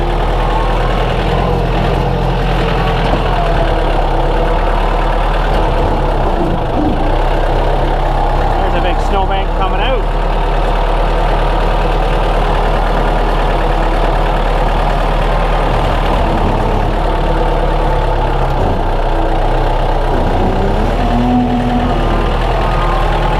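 Engine of a 110TLB tractor loader backhoe fitted with an HLA3000 blade and large loader bucket idling, a loud steady low diesel drone running throughout with slight fluctuations, outdoors in snow, with voices faintly underneath.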